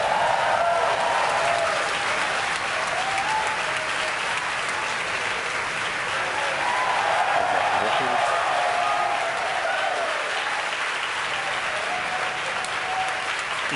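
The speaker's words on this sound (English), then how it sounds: "you can hear it through the cheers of the crowd here at SpaceX headquarters" A crowd at SpaceX headquarters cheers and applauds after Falcon 9 stage separation during a Starlink launch, a steady wash of clapping and whoops that holds throughout with voices mixed in.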